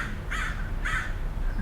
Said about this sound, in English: There's a very loud crow.